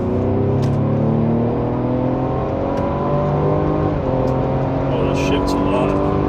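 A 2020 or later Ford Explorer with a tuned transmission pulls hard from inside the cabin, engine droning and climbing steadily with quick shifts, loud and continuous.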